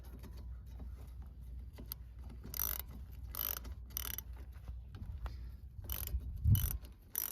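A ratchet tightens the brake caliper bolts on a 2004 Dodge Dakota during a brake pad job, giving bursts of quick, close metallic clicking between short pauses, with no talking.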